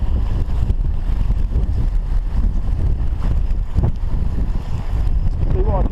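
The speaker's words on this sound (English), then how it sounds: "Now I've got to be careful with this side wind." Strong side wind blows across a snowy sea shore at the Swale in Kent, buffeting the microphone in a loud, continuous rushing roar.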